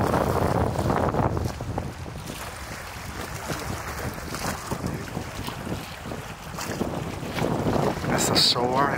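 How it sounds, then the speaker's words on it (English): Wind gusts buffeting the microphone on a pier at Lake Tahoe, with steady water and boat noise across the lake and no talk; broadband rushing that stays fairly constant and loud throughout. "See a lot of boating right there and a lot of kayak in the back."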